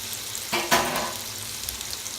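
Bacon frying in a pan gives a soft, continuous sizzle, with two brief louder bursts of crackle close by.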